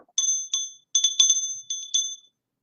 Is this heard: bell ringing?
yes